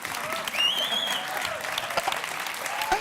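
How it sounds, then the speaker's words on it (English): Audience applause at a youth award gala, a steady wash of clapping from a large crowd throughout, with a brief whistle-like tone near the start. "Please, a big round of applause."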